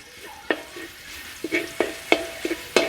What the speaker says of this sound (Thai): ผัดกระเทียมรากผักชีให้หอมเลย